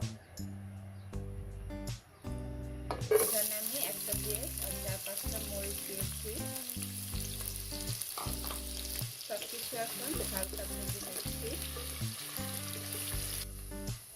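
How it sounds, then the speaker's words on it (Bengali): Onions and chillies go into lightly heated oil in a cooking pot for basmati rice khichuri. A sudden loud hiss of frying starts a few seconds in and sizzles on steadily, close, with stirring scrapes and a faint voice underneath. "তেলটা হালকা গরম হয়ে আসলে এখানে আমি পেঁয়াজ মরিচগুলো দিয়ে দেবো"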